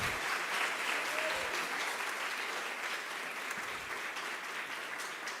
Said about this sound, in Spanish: Por favor, un fuerte aplauso al ingeniero Ariel.